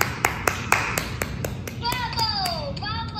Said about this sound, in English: So let's clap for Rick's yellow tip.